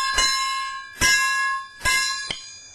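Small bells in Nanyin music are struck four times in a steady rhythm, each a bright, close metallic ring that rings on and fades before the next.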